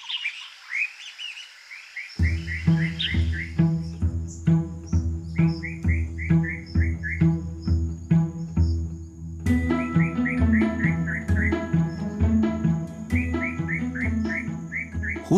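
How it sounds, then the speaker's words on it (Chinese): Along a trail in an urban wildlife sanctuary, a bird repeats bright, rapid chirping phrases over a steady insect-like buzz, with a soft musical drone sustained underneath. "虫鸣鸟叫，当你徜徉步道上，"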